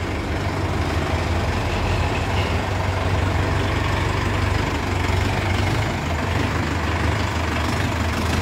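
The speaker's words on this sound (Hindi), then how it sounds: "ये देखो भाई, जो क्या दमदार ट्रैक्टर है।" Mahindra 585 Yuvo Touch Plus 4x4 tractor engine idling steadily, a continuous low rumble close by with no talk over it.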